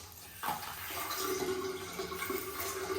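Water running from a tap in the bathroom of a rental home near Angeles City, a steady, fairly close hiss of flow that starts abruptly and continues evenly, with low pressure.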